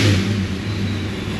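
A small-block Ford engine with low oil pressure revving, a loud close throaty roar that peaks right at the start, then settles into a steady running drone.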